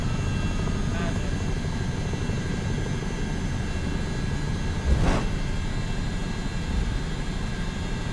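A CH-47D Chinook twin-rotor helicopter drones steadily in a flight video game, with a constant loud rotor and engine hum and a brief thump partway through.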